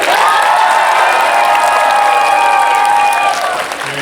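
Loud applause with cheers from a large crowd at a fan festival Q&A panel in Dallas, a dense roar of clapping with ringing whoops that holds strong, then drops away near the end.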